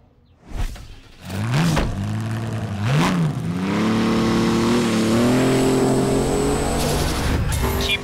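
A car in the driving game The Crew revs on a shakedown lap at speed, engine rising through quick upshifts and then holding a steady high drone, close and loud with a faint whine near the end.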